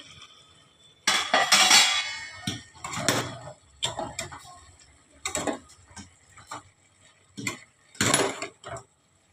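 A metal lid clanks and rattles against a cooking pot of Bengali mourala fish curry with potatoes in a home kitchen, a few close clinking knocks separated by short pauses, with faint talk underneath.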